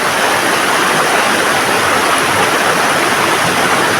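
A mountain spring stream flowing steadily, a dense, loud, continuous rush of water close by with no pauses and no voices.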